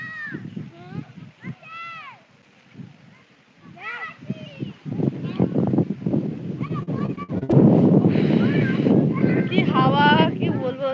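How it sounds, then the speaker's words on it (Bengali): Strong wind buffets the microphone in loud, rumbling gusts in an open field, building toward the end, with people talking underneath. "সত্যি খুব হাওয়া হচ্ছে এখানে"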